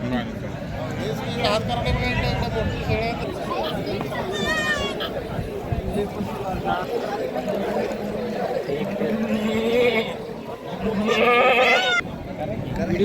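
Goats bleat repeatedly at the Miraj goat market in Maharashtra, several loud calls rising over a dense crowd chatter, with people talking and bargaining throughout.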